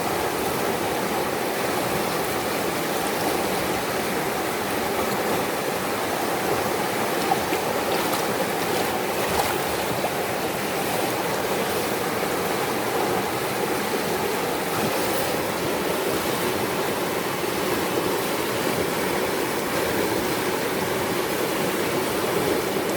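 Fast river water surging around a gold pan as it is worked in the current, a loud, continuous rushing roar of waves with no talk.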